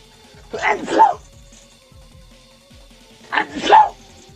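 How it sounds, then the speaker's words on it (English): Two sharp, noisy bursts about three seconds apart, each a quick double-pulsed sneeze-like blast, loud and close with quiet between. "Hold on a second, I gotta sneeze."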